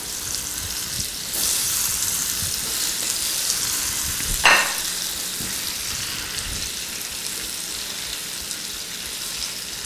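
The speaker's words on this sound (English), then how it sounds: "As the butter melts, you can go ahead and drop your potatoes into the pan." Red potato wedges fry in melted butter in a pan, a steady close hiss and sizzle throughout with a brief louder crackle as more wedges drop in.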